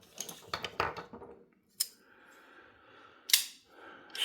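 A Kizer T1 folding knife is flicked open and shut by hand, giving crisp, close metallic clicks: a cluster of snaps early on, then two sharp isolated clacks spaced apart, with quiet handling between.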